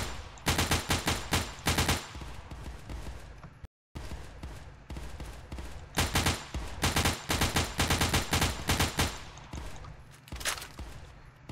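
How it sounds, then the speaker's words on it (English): Rapid gunfire in the video game Crossroads Warfare, with dense rhythmic bursts of shots that repeat steadily, loud and close, broken by one brief silent gap. "I'm just firing like no other"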